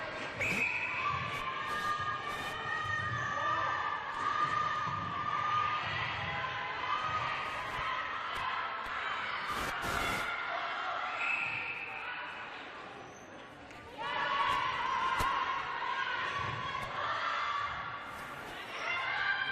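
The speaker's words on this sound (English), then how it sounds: "There's plenty of people here cheering on." Crowd cheering and shouting at a netball match, a broad sustained roar with rises and dips, under continuous commentary.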